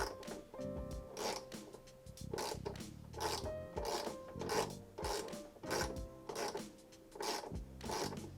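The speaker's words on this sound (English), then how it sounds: "Give it a couple turns with the ratchet." Hand ratchet tightening bolts on the plastic rear spoiler of a first-generation DSM car, rapid clicking bursts repeating in a steady rhythm at close range, soft overall.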